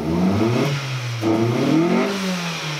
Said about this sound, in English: you notice how smooth and nice the engine idling